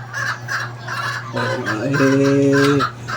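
Chickens cluck and call nearby just after 6 a.m., with a steady low hum underneath and a drawn-out harmonic call toward the end.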